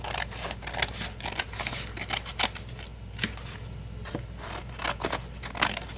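Scissors snipping through a stack of paper to cut small craft tags, a string of quick, close, crisp cuts in an irregular rhythm with no talking.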